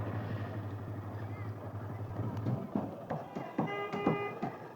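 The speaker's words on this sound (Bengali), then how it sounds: "আমরা বোট এই যে স্টার্ট দেবে, এখন ছেড়ে দিচ্ছে ঘাট থেকে" A boat engine starts up and builds to a steady drone as the boat pulls away from a ghat on a haor wetland. People talk nearby, and there are clattering knocks toward the end.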